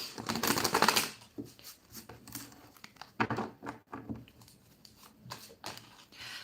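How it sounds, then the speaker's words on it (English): Crisp riffling bursts of tarot cards being shuffled, in repeated flurries separated by short pauses, close and moderately quiet with no talking. "I'm going to start shuffling tarot"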